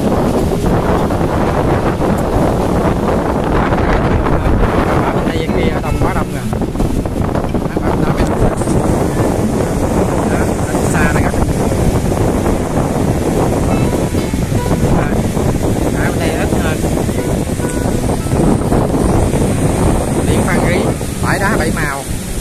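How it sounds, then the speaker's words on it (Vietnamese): Sea waves wash onto Đá Bảy Màu beach at Phan Rí Cửa in a steady surf wash. Strong wind buffets the microphone throughout, and voices are heard intermittently. "À, sóng biển dập dò dập dò."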